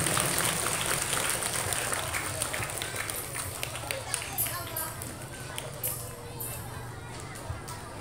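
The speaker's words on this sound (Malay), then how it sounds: "Beri tepuk tangan untuk anak-anak kita dari grup Rebana Min" An audience claps for a children's rebana group at a celebration of the Prophet Muhammad's birthday, with dense, continuous clapping that slowly fades, mixed with crowd chatter and movement.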